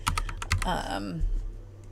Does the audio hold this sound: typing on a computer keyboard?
yes